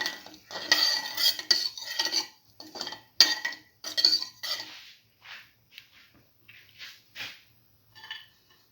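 A spoon stirs sugar into cinnamon vermicelli soup in a pot, making bursts of bright metallic clinks and scrapes that come fast at first, then thin out into sparser taps.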